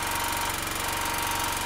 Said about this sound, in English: the generator is working and there's no smoke coming out